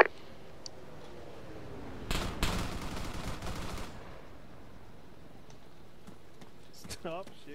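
A short, loud burst of automatic gunfire in a video game, aimed at a Hercules aircraft, lasting about two seconds amid a quiet background, followed by a few faint scattered shots and some speech.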